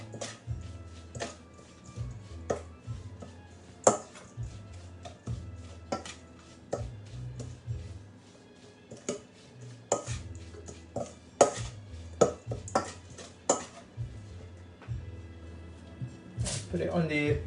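Sambal oelek chili paste being mixed in a bowl, heard as a run of sharp clicks, scrapes and wet squishes in an irregular rhythm, close by, with low voices in the background.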